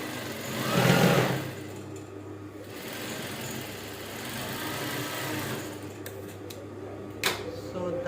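Sewing machine stitching a dart on short trousers, a steady mechanical whirring run under a faint hum, with a brief louder burst near the start and a sharp click late on.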